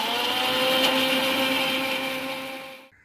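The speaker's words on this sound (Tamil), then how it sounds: "வேக வச்ச வெங்காயம், வரமிளகா, பூண்டை ஒரு மிக்ஸி ஜாரில் மாற்றிக்கோங்க" A kitchen mixer grinder blends boiled onion, dried red chillies, garlic and salt in a mixie jar, giving a loud, steady whirring motor roar that runs for almost three seconds before cutting off abruptly, with no talking.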